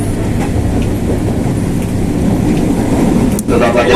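Commuterline Jabodetabek commuter train running, a loud close rumble and rattle of carriages with steady clatter from inside the car and a brief dip near the end.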